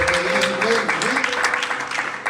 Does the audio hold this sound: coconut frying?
no